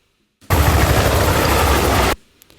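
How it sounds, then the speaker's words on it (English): A steady, loud burst of helicopter rotor noise from the video game Need for Speed: Hot Pursuit, with rapid low chopping, lasting under two seconds before cutting off abruptly. "actual chopping, wind chopping here, you get a pretty good helicopter"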